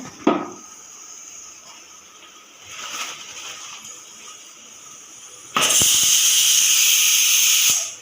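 Pressure cooker on a gas stove in a home kitchen releasing steam through its whistle: a loud, steady hiss that starts suddenly and holds for about two seconds, with fainter hisses earlier and no talk.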